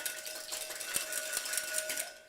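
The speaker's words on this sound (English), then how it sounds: "Whisk that together." Quiet, rapid clinking of a whisk beating egg and water in a bowl, a light rhythmic scraping with a few sharper taps, close and soft.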